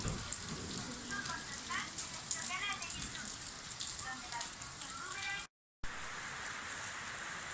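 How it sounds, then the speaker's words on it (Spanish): Steady rain falls in Huancaya, a soft continuous patter close by with a voice speaking over it, broken briefly by a short silent gap. "como ven, está lloviendo"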